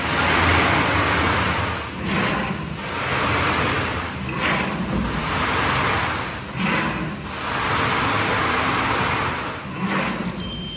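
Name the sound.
honeycomb paper mat machine running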